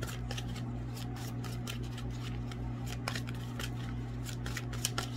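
Tarot cards are shuffled close up in a quiet room, giving a run of quick, crisp riffling and slapping sounds at an uneven pace with no talking.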